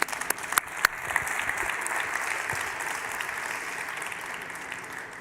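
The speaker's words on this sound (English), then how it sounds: "You deserve a round of applause." A conference audience at a global logistics forum claps in steady, sustained applause, with a few sharp, close claps at the start before the room settles into an even, moderately loud patter.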